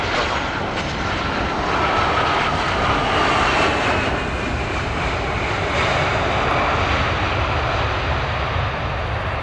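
An airplane taking off at Paris CDG airport produces a loud, sustained engine roar that swells and holds steady throughout, with no voices over it.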